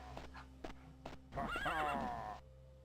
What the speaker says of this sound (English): More centaurs? I heard a horsey noise